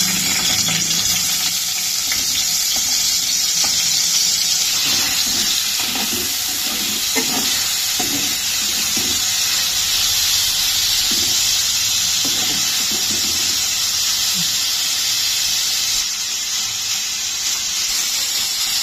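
Paneer cubes frying in hot oil for a restaurant-style paneer masala curry give a steady, close sizzle and hiss throughout, with occasional soft stirring clicks and scrapes in the pan.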